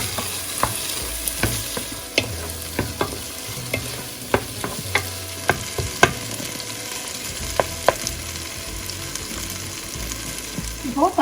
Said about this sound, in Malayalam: ഇപ്പോൾ തക്കാളി നന്നായിട്ട് വഴണ്ടിട്ടുണ്ട്